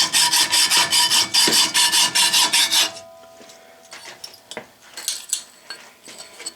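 A hand saw cuts through metal stock held in a vise, its steady rasping strokes loud and close in an even rhythm for about three seconds before they stop, leaving a few quiet clinks and knocks of handling.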